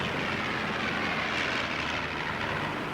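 An early airplane engine drones steadily and loudly in flight, a dense continuous roar that holds level throughout with no voices.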